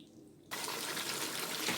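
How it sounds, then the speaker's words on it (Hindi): Water pours suddenly from a jug into a pot of browned lamb trotters for paya, a steady splashing rush that starts after a brief quiet moment and continues loud and close to the end. "अब मैं इसमें पानी ऐड करने लगी हूँ।"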